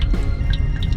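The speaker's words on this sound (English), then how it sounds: "Oh yeah, there's some water in there." Water drips and trickles from a boat's bow thruster during a rebuild, a close, steady patter of small drops with faint splashes, no talking.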